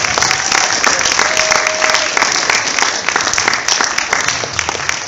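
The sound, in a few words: audience applause at hypnosis show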